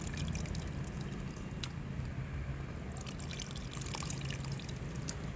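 Thick tomato and tamarind pulp pours steadily into a pan of chicken curry, a continuous soft liquid splashing and trickling at close range with no talk.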